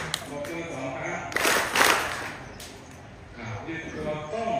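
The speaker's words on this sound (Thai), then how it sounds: "ทั้งหมดปรบมือหนึ่งครั้ง" A group seated at a Thai Buddhist novice ordination ceremony claps in unison, giving a sharp crack followed by a second burst, while someone speaks instructions over a microphone.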